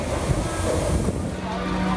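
A U-Bahn subway train rumbles loudly and steadily as it pulls in, with a faint squeal of brakes toward the end.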